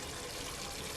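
Lemon juice pours into chicken karahi, a steady close liquid trickle and splash running for a brief moment, with no talking.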